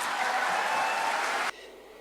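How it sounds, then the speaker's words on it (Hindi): An audience at a patriotic poetry recital during an academy annual function claps in dense, even applause for about a second and a half before it cuts off abruptly. "आप मुझे तालियां बजाकर बैठने की अनुमति दीजिए"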